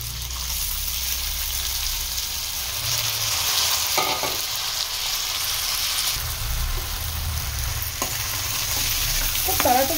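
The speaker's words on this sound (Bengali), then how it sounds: "এরপরে এই সাবুটা ঢেলে দেব।" Sago pearls tip into a pan of boiled potatoes with a sprinkle of turmeric, setting off a steady loud sizzle with scraping stirs and a few clinks, no voice over it.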